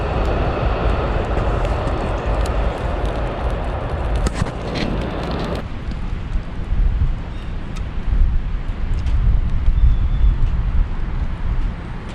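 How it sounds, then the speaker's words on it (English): Amtrak train passing in the opposite direction, a loud rushing roar with wind buffeting that shifts abruptly partway through and keeps rumbling. "That's the Amtrak going the other way"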